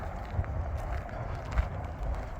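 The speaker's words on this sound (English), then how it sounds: "That's a heck of a wind." Gusts of strong wind sweep across an open, abandoned field, a steady low rumbling buffet against the microphone with a few sharper blasts, heard alone.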